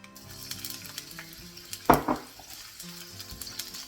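Chilies hit hot oil in a wok for salt and chilli chicken wings, a steady sizzle with a sharp burst of frying and clattering metal around the middle, then settling back to a soft crackle.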